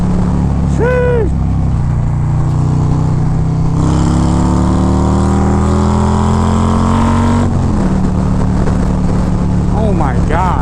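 A Harley-Davidson Road Glide with a 2.2 liter engine rumbles loud and close while riding in traffic, revving up in a long rising pull, dropping back, then climbing again under wind noise.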